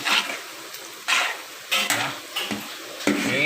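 Thin shreds of potato frying in hot oil in a pan, sizzling steadily while a utensil stirs and scrapes through them in repeated strokes about every second.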